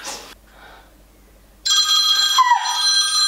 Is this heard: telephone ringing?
yes